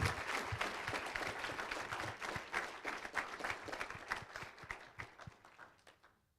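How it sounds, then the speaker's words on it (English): An audience at a high school athletics hall of honor ceremony claps in a steady round of applause from a crowd in a large hall. It is moderately distant and fades out toward the end. "Another round of applause, everyone, for Kene Wangu."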